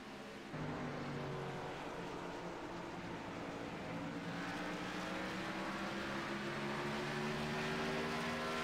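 Race cars circle the track on lap 29 of an evening race, their engines a steady, droning roar that starts abruptly and holds constant throughout, with no talking.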